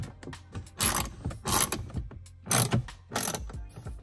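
Ratchet clicking as 10 mm bolts are tightened on a cabin panel of a BMW F34 340i GT with the B58 engine, four bursts of rapid close pawl clicks with short pauses between them.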